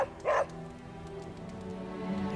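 In the Marvel's Midnight Suns video game, a dog gives a short, soft bark near the start, followed by a quiet low hum with some faint tones.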